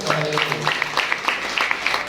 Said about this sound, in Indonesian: Yang setuju tepuk tangan bagi Allah.